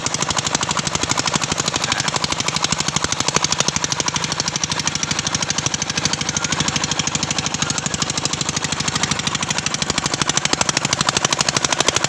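A loud, rapidly chugging 13-horsepower Chinese boat engine runs steadily and close by, pushing slowly through floating water hyacinth, its rattling pulse continuing without pause.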